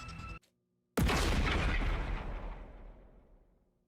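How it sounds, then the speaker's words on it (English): A short, sharp explosion from the video game The Hundred Line: Last Defense Academy lands after a brief pause. It is a loud, sudden blast with a booming tail that slowly fades over several seconds. "A short, sharp explosion suddenly rang out around us."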